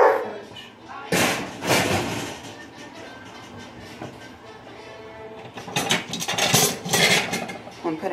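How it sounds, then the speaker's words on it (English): Hot cookie baking pans clatter and thump onto a kitchen counter in a couple of loud metallic bursts, separated by quieter kitchen noise. "I'm putting hot pans in these so it doesn't go through your counter."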